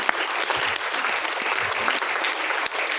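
Steady, fairly loud applause from a seated audience welcoming someone speaker to the front at a health-advice talk, continuous clapping with no voices throughout.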